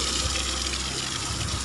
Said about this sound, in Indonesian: Sangat deras airnya.